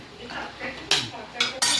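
Metal utensil scraping and clanking against a pot of intestine curry with gravy, with a few sharper clinks near the end; close and fairly loud, no voices.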